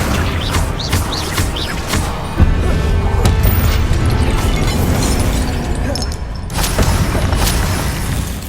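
A Confringo spell explodes in Hogwarts Legacy, a loud fiery blast that rumbles and crackles for several seconds amid ongoing combat noise, with a second burst near the end.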